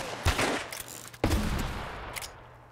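Gunfire in the video game Uncharted 1: two sharp, loud shot bursts about a second apart, each trailing into a reverberant decay, with a fainter pop near the end.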